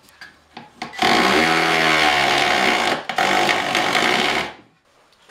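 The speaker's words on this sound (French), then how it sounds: "Avec le morceau en dessous tenu en serre, j'ai pris le temps de quand même percer." A power drill bores a pilot hole through a wooden board clamped over a second piece, making a loud, steady whine for about three and a half seconds, with a short break partway through, while building a gouge holder.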